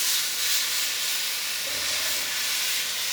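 Lamb fat searing and rendering in a hot pan, a dense, continuous broadband hiss with a low rumbling undertone, close and steady throughout, with no voices.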